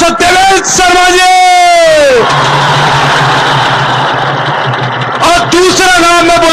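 An audience at a seminar event breaks into loud, sustained applause and cheering between a host's amplified announcements, a dense wash of clapping lasting about three seconds with talk before and after.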